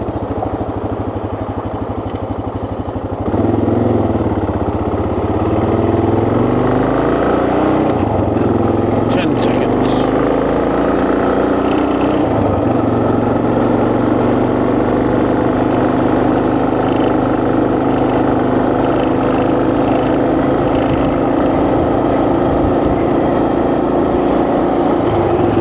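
2024 Suzuki DR650 motorcycle ridden in fourth gear at very little throttle: a steady low engine drone with wind rumble, rising slightly early on and holding even, with someone talking over it.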